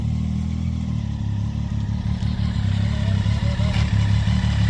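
Several motorcycles idle and pull away together at a safe riding training session, a steady close engine rumble with rising revs and light clatter, a voice briefly heard under the noise.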